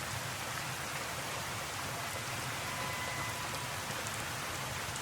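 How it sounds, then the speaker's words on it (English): Steady rainfall in the Fallout: New Vegas video game, a constant broadband hiss of drops hitting surfaces that stays even and unbroken throughout, with no talking. "Wait, how is it raining when it's clearly sunny outside?"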